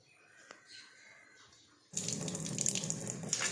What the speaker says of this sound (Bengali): মানি প্ল্যান্টগুলোকেও একটু জল দিয়ে দিই